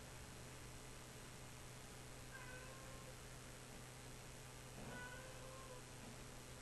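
A cat meows indoors, two faint, brief calls a couple of seconds apart, barely rising above a steady hiss of background noise.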